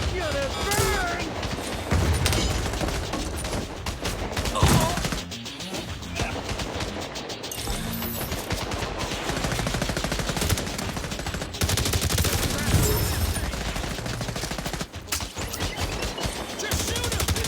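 Rapid bursts of automatic gunfire from a firefight in The Division Resurgence, a video game, crackling close and loud throughout, with game dialogue shouted over the shooting.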